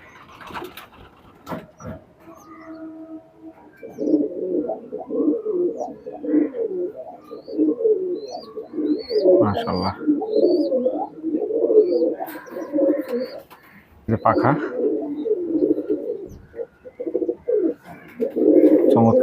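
Domestic high-flying pigeons of a golden deshi line coo repeatedly in soft, rolling phrases, with a few faint higher chirps and brief sharp knocks near the start.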